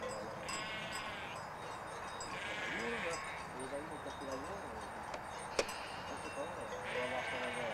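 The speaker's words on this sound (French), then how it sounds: "cette petite chèvre noire, comment elle s'appelle?" A small black goat on an educational farm gives several wavering bleats at moderate distance over a steady outdoor hiss, while people talk nearby.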